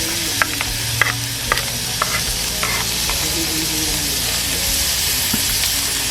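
Garlic, onion and green chili sizzle and fry in hot oil as a tempering, with a steady crackling hiss broken by a few sharp stirring clinks and scrapes, close and fairly loud, no talking.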